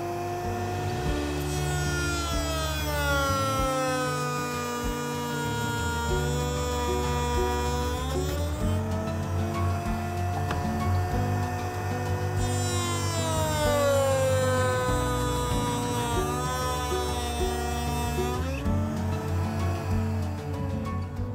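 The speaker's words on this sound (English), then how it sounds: "Next, I'm going to do a test cut on my scrap wood." A router fitted with a lock miter bit makes a test cut through scrap wood: a loud, steady motor whine rich in overtones that dips and recovers in pitch as the bit bites into the workpiece, with no talking.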